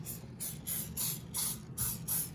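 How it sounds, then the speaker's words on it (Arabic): Six evenly spaced bursts of aerosol oil spray hiss against baking paper and the sides of a cake pan for a vegan carrot cake, each short blast close and crisp, separated by brief pauses. "وبرجع برش على الورقه كمان وبرش على الجوانب"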